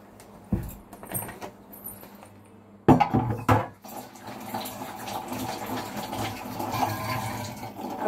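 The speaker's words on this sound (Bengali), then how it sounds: "মুখ ধুয়ে দিই।" Water running and splashing while a child's face is washed, with clattering and knocks of containers at first, then a steady nearby stream of water that continues to the end.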